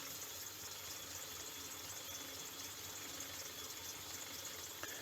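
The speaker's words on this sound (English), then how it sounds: "I'm just machining this face off." A lathe facing off a crankshaft for a Stuart S50 steam engine build: a faint, steady machine hum and low whir with a light cutting hiss, with a small click near the end.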